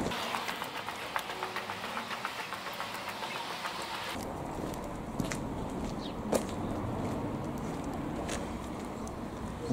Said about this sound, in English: How long is that train going to be?